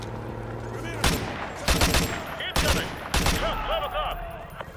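Gunfire in the Call of Duty: Modern Warfare 2 campaign: four or five bursts of loud shots cut through the battle din at irregular intervals, with scattered pings and ricochets between them.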